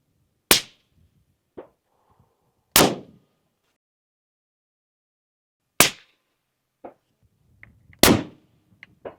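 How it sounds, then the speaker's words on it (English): Rifle shots fired off a tripod at pronghorn in open hunting country, four sharp loud cracks spaced a few seconds apart, each with a short echoing tail and faint clicks and handling sounds between them. "So we're going to be shooting off a tripod for this one."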